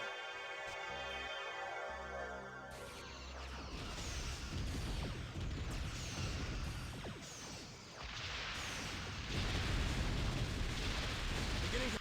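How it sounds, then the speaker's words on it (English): Massive shockwave explosion from a Klingon ship in the Star Trek Armada space strategy game, a dense, roaring blast with crackling debris that rolls on loudly for several seconds, then swells again. "The Klingons had a ship that made a massive shockwave that would destroy everything in its path."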